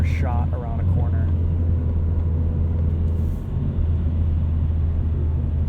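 A 2020 Ford Mustang EcoBoost with the High Performance Package corners around a highway entrance ramp, a steady low engine and road rumble heard from inside the cabin, continuous and fairly loud.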